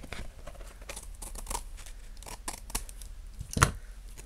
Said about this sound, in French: Je vais déjà découper ça qui dépasse.